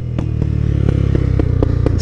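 A modified Honda Twister motorcycle idles with a loud, close exhaust thrum. Sharp pops from the exhaust break through about every quarter second in a rapid, uneven string.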